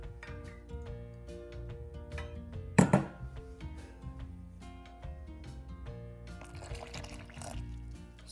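Water, 1 dl, is poured to make oobleck, a soft liquid splash and trickle with a brief louder gush partway through, heard close over steady background music.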